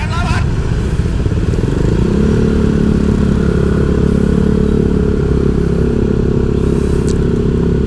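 A motorcycle engine and exhaust rumble steadily and loudly up close on a road trip near Jogja and Krakal beach, with the pitch shifting slightly as it revs.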